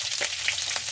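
Ginger sizzles and is stirred in a hot pan for ginisang monggo, a steady close frying hiss with soft stirring swells and no talk.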